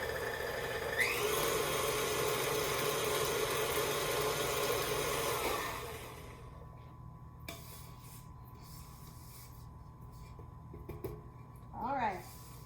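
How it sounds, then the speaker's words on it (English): An electric mixer whirs loudly and steadily through oatmeal cookie dough for about five seconds, then shuts off, leaving a quiet room with faint small clatters. "let's mix these up. I'm going to do it a little slowly at first."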